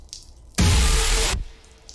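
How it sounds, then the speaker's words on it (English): A toilet flushing in a horror video game, a sudden loud rushing whoosh of water lasting under a second before cutting off to a quiet hiss. "Sorry, I forgot to flush the toilet earlier."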